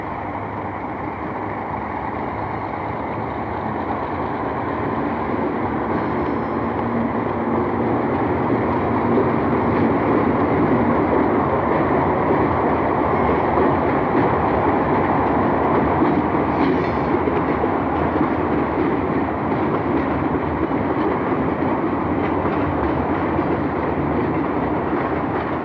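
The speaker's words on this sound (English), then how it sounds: "An inbound train from Oyster Bay is led by a C420 in handsome blue and yellow paint." An inbound train from Oyster Bay, led by a blue and yellow ALCo C420 diesel locomotive, rumbles past in a loud, steady roar of engine and rolling wagons that builds slightly and holds throughout.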